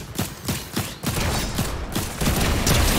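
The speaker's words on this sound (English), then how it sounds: "Oj, bardzo ładna pompa ze strony Kamiego." Pump shotgun fire in the Fortnite video game, a rapid run of loud, close shots among other gunfire, densely packed over a few seconds.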